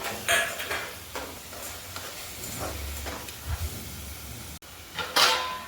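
A ground paste of coconut, coriander, ginger and garlic is stirred into onion and tomato frying in oil, with a soft sizzle and scraping spoon strokes that come in bursts and fade out near the end.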